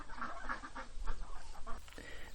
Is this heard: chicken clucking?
yes